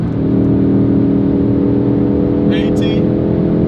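A Ford Focus RS pulls hard on the Autobahn after a downshift, its engine droning loudly and steadily throughout, with a brief higher whine midway; speech is faintly present underneath.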